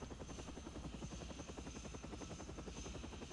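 A helicopter in the Xbox 360 game Shaun White Snowboarding gives a steady, close, rapid rotor thump with engine drone, continuous and even throughout without talking.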